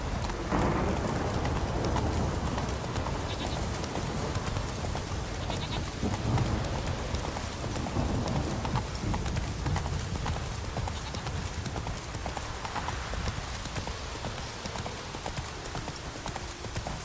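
Horse hooves clip-clop at a steady gallop rhythm under a dense, continuous wash of game ambience; Roach, the horse from the video game The Witcher 3: Wild Hunt Remastered, runs close and loud for the whole stretch.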